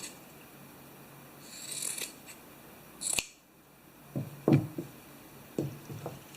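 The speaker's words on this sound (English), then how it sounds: "take your white sock and we're going to cut it off about the heel again" Scissors snip through a white fuzzy sock near the heel, a few sharp close clicks and crunching cuts spaced irregularly over a quiet background.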